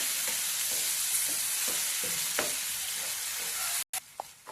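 Onion leaves frying in a pan with curd, stirred steadily: a constant close hiss of sizzling with soft scraping strokes of the spoon recurring every half second or so, cutting off briefly near the end before resuming.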